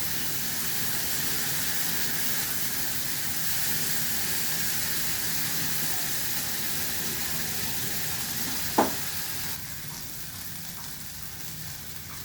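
A Bengali prawn curry with cumin and turmeric paste sautés in a pan, giving a steady soft sizzle and hiss with a single sharp clink near the end, after which the frying grows quieter.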